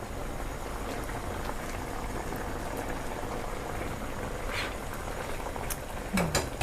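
Pork ribs stew at a steady boil in a pot, a continuous close bubbling and simmering texture with no talk, a brief clink near the end.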